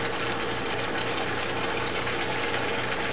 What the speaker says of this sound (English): And we'll slowly start to add that into the sauce.